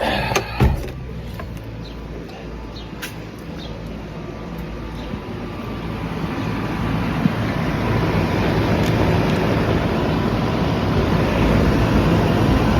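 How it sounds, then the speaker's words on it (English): A York central air conditioning system being serviced blows air in a steady, rushing whoosh, opening with a couple of sharp knocks before the airflow noise builds louder and stays continuous, with no speech. "Well, this one's blowing out hot air."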